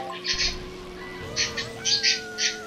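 A bird chirps in a Mario Kart race with a handful of short, high chirps spaced irregularly over a steady hum of game music and engine tones.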